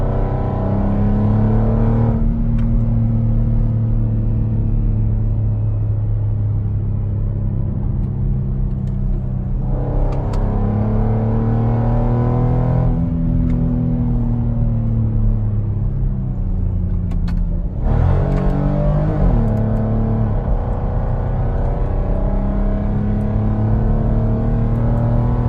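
The naturally aspirated engine of a 2014 Porsche Cayenne revs loud and close around 4,000 rpm, its smooth harmonious tone climbing and falling in several long sweeps over a steady low rumble.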